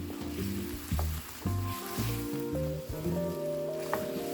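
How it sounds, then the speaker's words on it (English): Soy sauce chicken boiling down in a pan, with a steady bubbling sizzle and several clunking stirs of a utensil against the pan, close and fairly quiet, with no talk. "So as it's boiling down, I'm gonna stir it a little bit."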